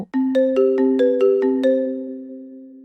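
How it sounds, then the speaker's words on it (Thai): A telephone rings with a rapid series of bright electronic tones repeating several times, then a sustained chime that slowly fades; loud and close. "โทรศัพท์ดังขึ้นอีกครั้ง"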